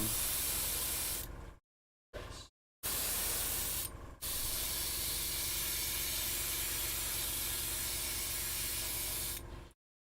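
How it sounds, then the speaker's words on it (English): Steady close hiss of polyurethane primer sprayed from a bottle onto a surface, long continuous bursts broken by a few short pauses, loud and alone. "Now I can just finish off priming."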